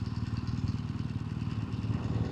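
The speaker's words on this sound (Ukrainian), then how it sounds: "Мотоцикл не глохне." A BMW R1200GSA motorcycle idles at a traffic light on a winter ride. Its engine gives a steady, close, throbbing low rumble that runs without a break and never stalls.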